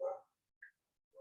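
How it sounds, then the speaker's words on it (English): A dog barking indoors, one short muffled bark followed by a faint yip and the start of another bark, fairly quiet and distant. "excuse my dog, he's really going at it right now."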